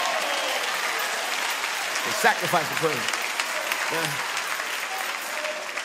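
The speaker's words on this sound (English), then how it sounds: "make yourself get up and clap your hands and praise the Lord" A church congregation claps their hands in praise during a sermon, a dense, continuous sound of clapping while a preacher's voice speaks briefly over it.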